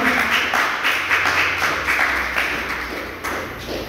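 A congregation at a Spanish-language church service claps in a loose, rhythmic burst, steady patters of hand claps that gradually thin out toward the end.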